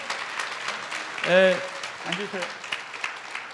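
A church congregation applauds in encouragement during a Sunday sermon, a steady wash of clapping that runs throughout and swells briefly as a voice speaks over it.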